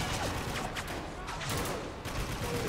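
Heavy weapon fire in a Spec Ops: The Line firefight, with dense, continuous bursts of shots and explosive crackle running the whole time at steady, loud intensity.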